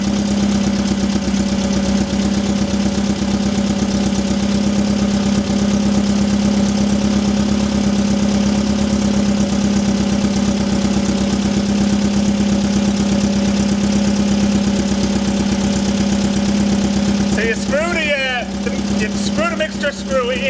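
A 1974 rat-look VW Beetle engine idles steadily with a low, even hum throughout while its carburettor is adjusted, with faint clicks and a brief burst of higher sound near the end.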